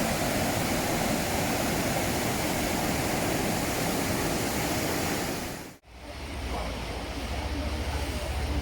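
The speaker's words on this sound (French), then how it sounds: "Donc on retombe sur le torrent." A mountain torrent beside the granite trail near Chamonix pours in a loud, dense, unbroken rush, cutting out for an instant and then resuming at the same steady roar.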